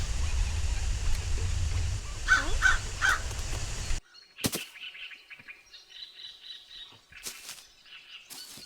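Crow caws from the Hello Neighbor video game, a few harsh calls over a steady ambient drone, then sparse game sound effects after the background cuts out.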